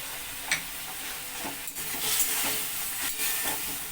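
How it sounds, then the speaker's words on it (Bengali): Fried potatoes stirred with spice paste in a pan, a steady low sizzle with a few scraping clicks of the spoon, close and moderately quiet, no talking. "এখন এই ভাজা আলুগুলো আমি মশলার সঙ্গে কষিয়ে নেব"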